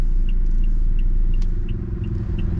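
A 2022 Toyota Innova Reborn G-type diesel with a manual gearbox, driven slowly in second gear, gives a steady low engine rumble from inside the cabin with faint periodic ticking over the top.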